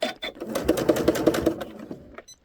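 A sewing machine stitches along the waist seam of a pair of jeans, a fast, close, rattling run of needle strokes lasting about two seconds before it stops.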